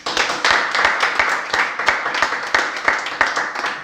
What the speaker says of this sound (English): So a big round of applause for everybody who is going to present in the evening session.